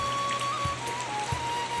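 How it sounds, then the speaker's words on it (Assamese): Heavy rain falling outside a house, a steady wash of close raindrops with faint dripping and a low, constant hum underneath, no voices. "বহুত বৰষুণ ধৰিলে, ঘৰত গুচি আহিলোঁ"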